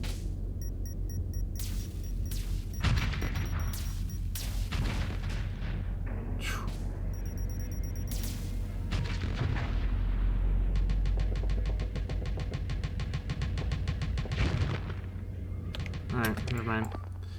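Missiles streak and weapons fire in Starsector space combat, with repeated booms, rapid zapping bursts and whooshes layered over a steady drone, while someone talks throughout.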